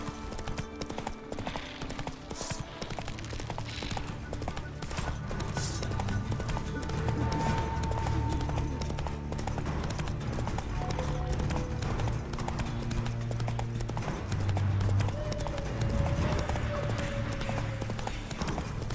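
Hooves of Roach, Geralt's horse in The Witcher 3 game, clip-clop in a steady galloping rhythm throughout, close and continuous, over a low rumbling game soundtrack with occasional whinny-like tones.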